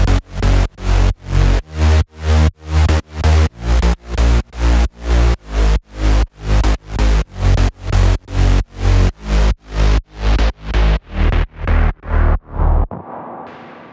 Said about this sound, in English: This is the bass line in the drop.